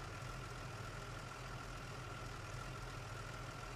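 Fire truck pump engine in the Into The Flames video game running at a steady, even drone, a low continuous hum held at constant level with no voices.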